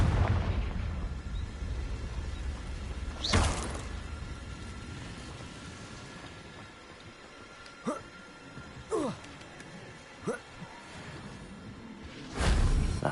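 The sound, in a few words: Confringo blasting spell explosion from the video game Hogwarts Legacy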